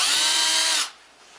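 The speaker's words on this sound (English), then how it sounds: "you use a self-centering bit to drill the pilot hole" A power drill with a self-centering bit bores a pilot hole for a cabinet hinge, a loud high whir for under a second that then stops abruptly into quiet.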